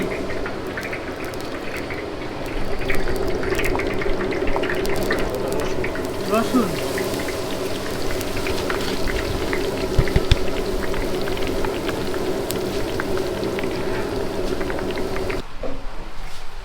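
Whole spices (bay leaf, cardamom and cloves) crackle and fry in hot ghee for a Peshawari haleem tempering: a steady, dense sizzle that holds at an even level throughout, with a sharp clatter near the end.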